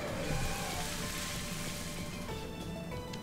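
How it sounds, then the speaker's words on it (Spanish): Steady, dense rain hisses evenly throughout in the Pokémon Purple video game, a continuous wash of falling drops with no voices. "Ha empezado a llover"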